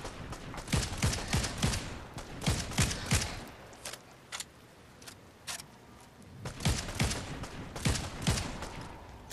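Gunfire in the Fortnite video game: sharp shots cluster in short bursts, several rapid volleys with brief pauses between them, fairly loud and close, with no talking over them.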